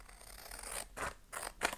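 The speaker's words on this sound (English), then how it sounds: "I'm just going to trim the excess." Scissors trimming excess paper from a mini art journal page: three short crisp snips close by, each a quick slicing cut, heard alone with a quiet background.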